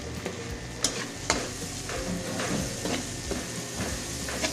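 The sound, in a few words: onion added to pan, sizzling and stirred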